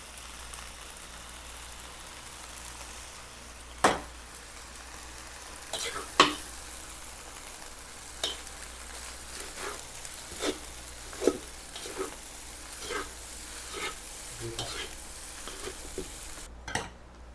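Fried rice with soy sauce sizzles in a pan while a spatula scrapes and knocks through it at irregular intervals, a steady frying hiss under close stirring strokes without speech.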